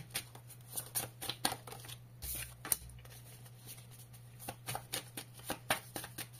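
A deck of oracle cards being shuffled by hand, heard up close as a quiet series of quick riffling flutters and soft slaps in an irregular rhythm.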